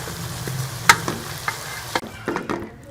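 Boiled macaroni being stirred into a chicken and vegetable masala in a pan, giving soft sizzling and several distinct scraping and clinking strokes of a spoon, close and moderately loud.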